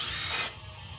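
A Metco 12 volt brushless impact driver backs screws out of an old L28ET, giving a brief, bright, rattling hammer burst at close range that cuts off abruptly halfway through.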